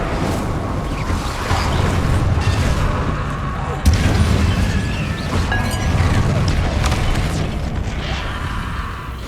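Spell explosions in the video game Hogwarts Legacy boom heavily over a constant rumble, with one sharp, loud blast standing out midway among repeated crashing impacts.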